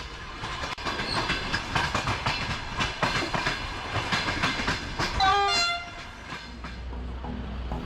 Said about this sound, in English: on board a high-speed Eurostar train